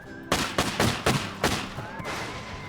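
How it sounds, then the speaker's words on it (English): Dual revolvers fired in the sandbox game Teardown, five or six sharp, fairly quick shots at uneven intervals, each with a short ringing decay, then a quieter trailing burst. "we've got dual revolvers. Oh, so we can shoot relatively fast."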